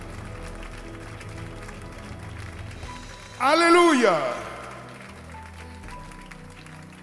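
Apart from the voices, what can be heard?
congregation applauding in church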